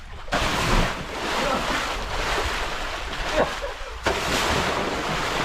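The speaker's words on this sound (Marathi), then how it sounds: "हा पाण्या जो वरती येतो त्याला आम्ही कोम बोलतो" Water surges and churns in a well after someone jumps in, a broad rushing wash that lingers steadily, with a couple of sharper splashes along the way.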